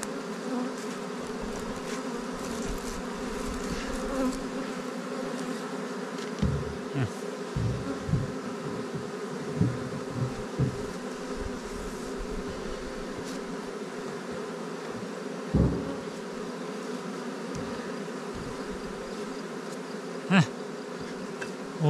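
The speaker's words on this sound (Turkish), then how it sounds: "Oldu galiba. Ama çok arı varmış ya." A swarm of bees buzzes steadily outdoors at a highland pasture, a dense continuous drone with individual insects passing close now and then; no voices.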